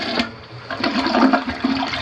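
A household commode is flushed during a plumbing inspection, giving a loud close rush and gurgle of water that continues unbroken for the full two seconds.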